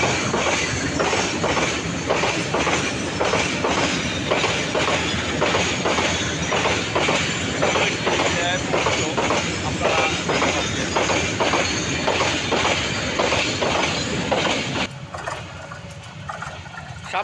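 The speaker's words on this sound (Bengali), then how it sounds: "একটি ট্রেন যাচ্ছে আমাদের সামনে দিয়ে" Train rolling past on a railway line close by, with loud rhythmic clickety-clack of wheels over rail joints that fades near the end, and a brief spoken word.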